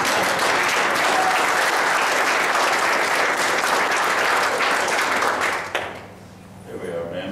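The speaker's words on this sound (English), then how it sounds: "if you give her a big round of applause" A dense, loud round of applause from a crowd, sustained for several seconds before fading out abruptly into a quieter murmur.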